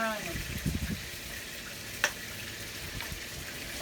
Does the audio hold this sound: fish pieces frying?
yes